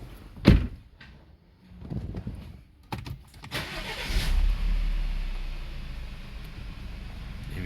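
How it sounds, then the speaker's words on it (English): An Audi A4 1.8 TFSI with a manual gearbox, a misfire and camshaft noise: a door thump and clicks, then the engine cranks and catches near four seconds and settles into a rough, uneven idle, close by. "Engine here, some strange sounds."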